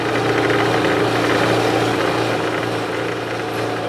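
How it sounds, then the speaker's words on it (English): A car engine runs steadily at low RPM after an ECU fault, a continuous loud mid-range drone with a faint knocking texture and no talk. "So I'm running at a low RPM, and it feels like it's starting to fix itself a little bit."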